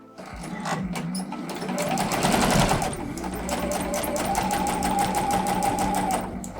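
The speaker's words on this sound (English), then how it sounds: "I'm just going to sew straight down" A Juki sewing machine runs a straight seam at its longest 5 mm stitch setting. The steady, rapid needle clatter is close and continuous for several seconds with no talk.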